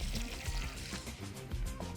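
About 8 ounces of water poured into a plastic bag holding calcium chloride, a brief close gurgling splash and trickle lasting a couple of seconds.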